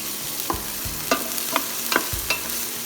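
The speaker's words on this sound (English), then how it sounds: "we're going to saute this maybe for a minute or so." Ginger sautéing in a pot for sweet corn soup, a steady sizzle broken by several sharp scrapes and clinks of a utensil stirring against the metal.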